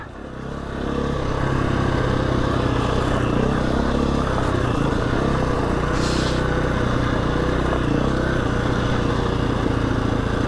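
A Husqvarna 350 motorcycle rides at a gentle steady pace near Scarhouse Reservoir in the Yorkshire Dales, its engine a loud, close, continuous drone with little change in revs and no talking.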